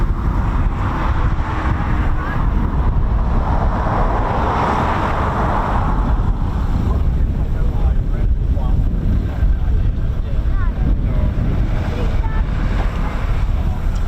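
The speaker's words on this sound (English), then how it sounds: "the wind is blowing here" Wind gusting outdoors near an RAF airfield, with a harvester working nearby, as a steady broadband rush and low rumble that stays loud and constant throughout, with faint voice-like sounds mixed in.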